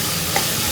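Spices roasting in a pan for Kochi-style mutton chops give off a short, steady sizzle with no talk.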